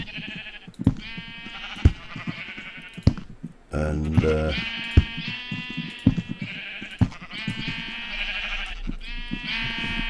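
Sheep in the Tolkien Craft Minecraft game bleating repeatedly, nasal wavering calls recurring throughout, overlapping a brief voice and a louder low thump near the middle.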